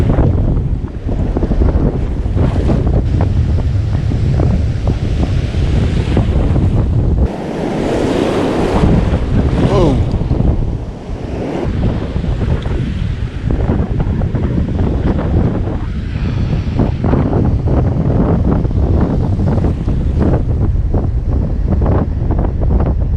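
Pacific Ocean surf breaks on the coast in a continuous heavy wash of waves. Strong gusts of wind buffet the microphone over the top, and the whole scene stays loud, rough and wordless.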